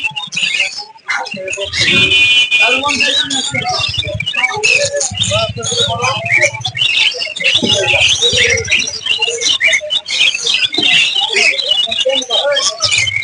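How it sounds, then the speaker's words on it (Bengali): Dense chirping and tweeting from many caged birds fills the busy Mirpur-1 bird market in Bangladesh, with voices and bustle mixed underneath throughout. "রঙিন পাখির মেলা"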